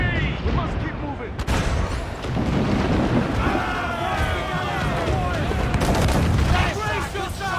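Cannon fire in a naval battle in Assassin's Creed 4: Black Flag, heavy booming blasts and rumbling, thunder-like volleys that run almost without a break, with shouted voices cutting through the barrage.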